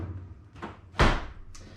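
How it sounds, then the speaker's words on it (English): A door is knocked shut in a home garage workshop during a small-block Chevy head rebuild: a faint bump, then one solid thud-slam at the midpoint and a lighter knock after, with no talk. "knock the door shut"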